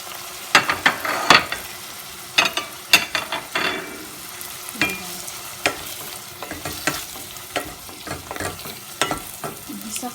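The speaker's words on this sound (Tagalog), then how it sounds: "Tumalsik yung mantika, oh." Oil spitting and sizzling while ingredients for seafood pansit canton fry in a pan, with repeated loud stirring clanks and scrapes at an uneven rhythm over a constant close frying hiss; no speech.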